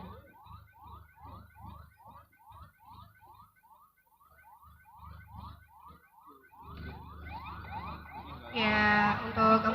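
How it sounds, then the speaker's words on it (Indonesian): Emergency siren from an ambulance leaving the display area of an Eid al-Adha takbir carnival, a repeating wailing tone with background crowd noise, growing louder and busier toward the end. "untuk ambulan yang pertama sudah meninggalkan area display, disusul dengan ambulan kedua"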